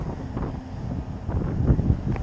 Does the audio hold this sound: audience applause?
no